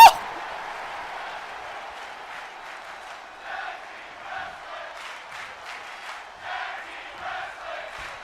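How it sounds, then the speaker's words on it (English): Audience at a tag team wrestling show giving a distant, hollow-sounding roar of cheering, with rhythmic swells like chanting rising and falling over several seconds after a brief sharp onset. "The audience is cheering for tag team wrestling."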